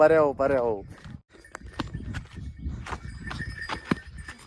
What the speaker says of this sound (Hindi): घोड़े चलते हैं यहाँ पे काम के लिए, मतलब बोझ को उठाने के लिए